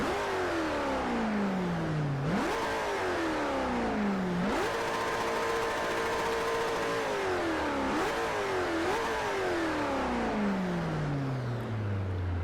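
Koenigsegg CCX engine in the racing game Forza 4 revving hard through repeated climbs, with sharp drops at each gear shift and a final long descending pitch, loud and steady without any talk.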